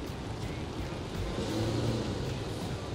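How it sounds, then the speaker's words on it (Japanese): A Nissan Skyline 400R sedan with a 405 hp engine revs while standing still, a fairly low, subdued engine swell that rises briefly in the middle and then settles back to a steady hum. "アクセルちょっと吹かしてもらっていいですか"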